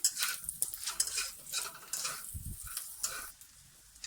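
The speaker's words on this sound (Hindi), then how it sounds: "इसको भी 1-2 मिनट के लिए सौते कर लेंगे।" Cumin and chopped capsicum sautéing in a pan for egg fried rice: a soft sizzle broken by repeated scraping and clinking strokes of a spatula stirring against the metal.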